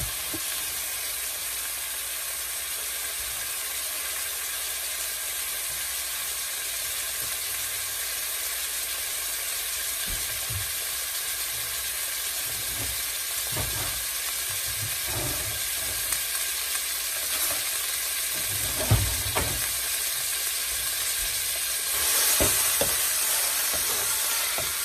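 Ground beef for nachos fries in a pan with a continuous bright, hissing sizzle that holds steady throughout. Occasional louder crackles and scrapes of stirring come through, with no talking.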